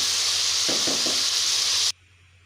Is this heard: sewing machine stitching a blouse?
no